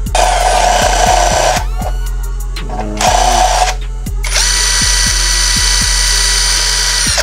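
A power drill enlarges a hole in a metal bracket for a Yamaha Nmax Techmax front fender extension, giving loud, close bursts of high whine broken by short pauses, with sharp ratcheting clicks ticking underneath.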